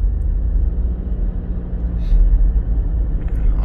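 A car driving on a Delhi road at night at over 60 km/h, a loud, steady low engine and road rumble heard from inside, continuous throughout, with faint background noises.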